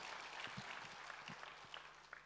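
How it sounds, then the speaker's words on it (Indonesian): Faint applause from a church congregation during a sermon, a steady wash of clapping with scattered louder claps, heard at a distance. "Tepuk tangan yang hebat buat Tuhan Yesus."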